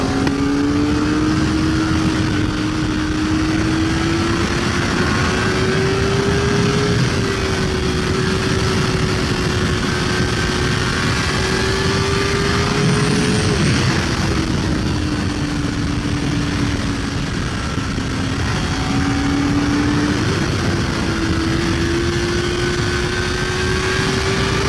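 Kawasaki ZX4RR motorcycle engine, a 2023 model, revving steadily under hard acceleration with quick-shifter gear changes, its pitch rising and dipping through shifts. Loud, close and continuous, with wind noise and no talking.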